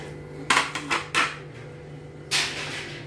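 A ladle clinks against a metal pot while rava kheer is scooped into a bowl, a few sharp scraping knocks in quick succession, then one more clatter a moment later over a low kitchen hum.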